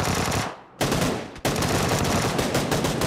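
Sustained automatic gunfire in a PUBG match, a dense continuous burst that drops out briefly twice before resuming loud and unbroken.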